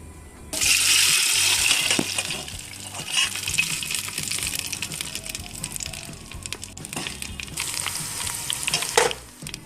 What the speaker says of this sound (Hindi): प्याज हमारी गोल्डन ब्राउन हो चुकी है। अब इसे हम दाल में डालेंगे।